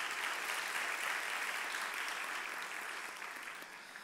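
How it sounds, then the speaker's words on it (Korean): A church congregation applauds after a choir's performance, a dense, even wash of clapping heard from a moderate distance that slowly fades toward the end. "우리 지금 박수를 한번 격려할까요?"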